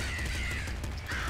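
A crow enemy caws in the game Nuclear Throne with a harsh, drawn-out croak, followed by a second call near the end over steady game background sound.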